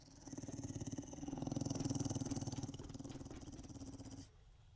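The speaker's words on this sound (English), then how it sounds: "Where is this dog at? I hear said dog." A dog in the zombie survival game 7 Days To Die growls in a rapid, pulsing, rumbling snarl, loud and continuous for about four seconds before cutting off abruptly.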